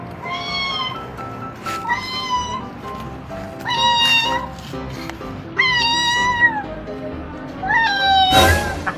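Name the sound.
cat meowing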